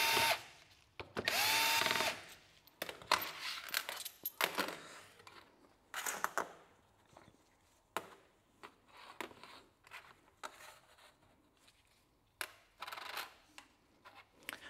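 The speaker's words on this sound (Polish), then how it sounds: "I teraz sobie podkręcamy pozostałe śrubki" A handheld power tool tightens screws on an Audi 3.0 TFSI cam variator, running in short whirring bursts separated by pauses, with light metallic clicks and clatter of small parts in between, close and fairly quiet.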